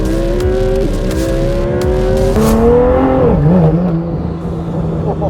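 A street race car's engine revs hard and accelerates during a roll race in Sydney, its rising note loud and close, then it shifts and settles into a lower drone.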